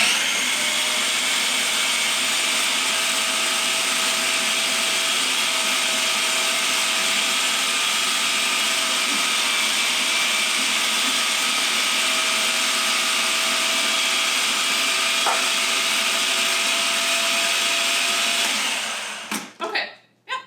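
A food processor blends kale pesto with olive oil, a loud steady whirring motor running continuously for nearly twenty seconds before cutting off abruptly.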